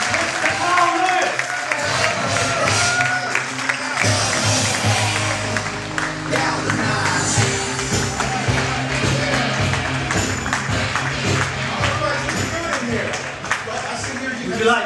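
A crowd applauds Olympic sprinter Carl Lewis at a Nike Malaysia event, the clapping steady and dense for about fifteen seconds, filling the room with a continuous wash of hands.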